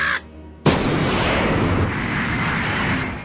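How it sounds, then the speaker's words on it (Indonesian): A cannon fires in the One Piece anime after its fuse is lit: one sudden, loud blast followed by a long, rumbling roar that slowly fades. "Zoro akhirnya membalikan meriam Bagi Dama ke arah Bagi dan krunya, lalu menyalakan sumbu meriam tersebut."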